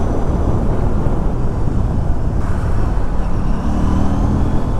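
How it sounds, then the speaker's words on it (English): Steady road traffic on the outskirts of Hakimpet in the early morning, a continuous loud rumble of passing cars and motorcycles close by, with no voices. "the traffic is a lot."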